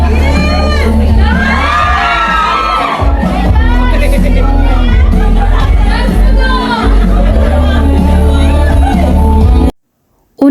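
Fans at a fan meet and poster launch scream and cheer loudly and continuously, a dense crowd roar with high shrieks over loud music, cutting off abruptly near the end.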